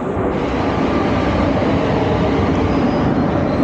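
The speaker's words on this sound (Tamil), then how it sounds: "மதுரை ரயில்வே ஸ்டேஷன் தாங்க ரீச் ஆகிருக்கோம் மக்களே." A train at Madurai railway station rumbles steadily and loudly, a continuous rolling roar of wheels and carriages close by that holds level throughout, with no talk.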